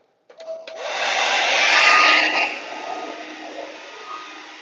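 A hair dryer blowing on acrylic paint, switching on abruptly after a moment of silence and then holding a loud, steady airy whoosh that eases slightly after its peak.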